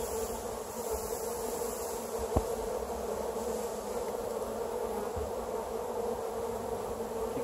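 Honey bees at a hive being treated with mineral oil fog for varroa mites make a steady, dense buzzing that holds throughout, with one brief sharp click partway through and no talking.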